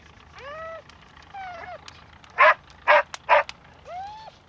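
A dog whines and yips with rising cries, then gives three sharp, loud barks in quick succession before a final whimper, close and clear with no talk.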